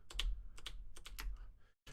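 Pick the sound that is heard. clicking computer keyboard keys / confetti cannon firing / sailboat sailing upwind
clicking computer keyboard keys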